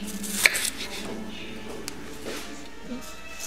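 A kitchen knife chops an onion into small pieces for Vietnamese braised pork with eggs, giving one sharp knock followed by softer, scattered taps at low level.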